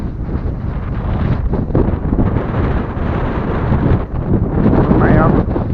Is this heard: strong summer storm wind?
yes